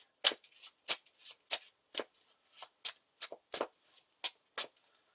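Playing cards being shuffled during a Lord of the Rings card game, about a dozen crisp, separate riffling strokes at an uneven rhythm, close and quiet, with no talking.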